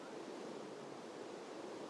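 Water waves wash in Minecraft, a steady broadband surf-like rush that continues unbroken and evenly loud for the whole stretch, with no voices over it.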